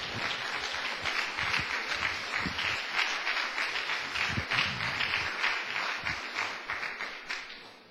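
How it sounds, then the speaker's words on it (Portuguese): Steady applause from a church congregation, many hands clapping together in a dense wash that swells and then tapers off toward the end. "Agora você pode dar uma salva de palmas para o Senhor Jesus."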